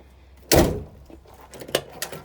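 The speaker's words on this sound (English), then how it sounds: "I'm about to take this driver's side door off and replace these hinge pins" The driver's side door of an old Ford F-350 truck being handled, with one sharp, solid thunk followed by a few lighter knocks and clicks close by.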